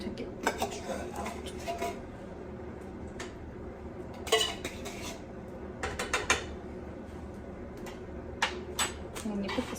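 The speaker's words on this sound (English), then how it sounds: "Just a spoon to get the extra out." A metal spoon scrapes leftover meat out of a pan, giving a run of irregular clinks and scrapes at close range, with quiet stretches between the louder bursts.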